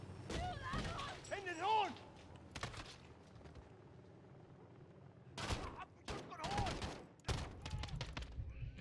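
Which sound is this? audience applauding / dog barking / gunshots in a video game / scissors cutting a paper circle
gunshots in a video game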